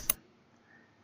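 A single sharp mouse click, crisp and close, followed by quiet.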